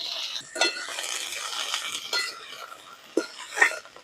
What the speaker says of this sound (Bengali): এবার আমি ধুয়ে পরিষ্কার করে রাখা সজনে ফুলগুলো দিয়ে দেবো।